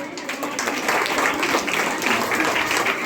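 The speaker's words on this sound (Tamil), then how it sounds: "ஒரு பலத்த கைத்தட்டல் கொடுக்கும்" Audience at a Thiruvaiyaru school event for young students clapping together in a steady, dense burst that holds evenly loud for the whole stretch.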